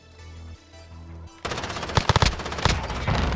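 Gunfire from a sniper rifle in an online shooter game, with a burst of sharp, loud shots clustered near the end after a quieter musical stretch.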